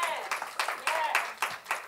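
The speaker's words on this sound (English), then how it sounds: "Give the Lord a hand clap for them." A church congregation claps along at a lively pace, around seven bursts of hand claps in under two seconds, close and fairly loud with a roomy ring.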